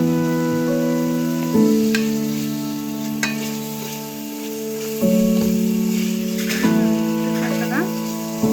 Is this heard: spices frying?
yes